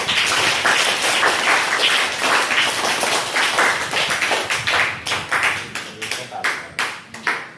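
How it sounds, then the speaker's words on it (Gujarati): Schoolchildren in a classroom clap for a classmate, first as a loud blended burst of applause, then as a series of sharp, separate claps in a quickening rhythm that thins out near the end. "તમારા માટે એકવાર તાળીઓ પાડી દો જોરદાર"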